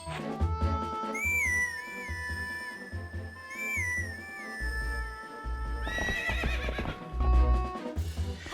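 A horse in a Zelda: Twilight Princess video game whinnies twice with high sliding calls over steady, rhythmic hoofbeats, close and clear, with a busier burst of galloping near the end.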